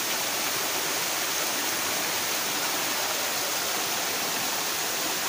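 Water pours steadily at Bhatrepalli waterfall near Kadiri, a dense, even broadband rush with no breaks. It sounds close and fairly loud, and no voices are heard.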